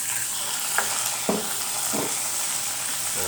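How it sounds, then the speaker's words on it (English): Tilapia fries in a pan with a steady, broadband sizzle and crackle, punctuated by a few soft clicks and scrapes, close and moderately loud with no talking. "here's my fish. It's my tilapia,"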